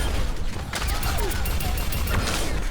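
D.Va's mech shotguns in Overwatch fire in rapid repeated blasts mixed with mechanical whirring and game noise, loud and close, while someone talks over them.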